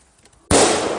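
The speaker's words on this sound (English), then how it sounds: "Oh my gosh, you just saw fireworks!" A single firework bursts with a sudden loud boom after a quiet moment, followed by a sustained crackling roar that fills the rest of the short stretch.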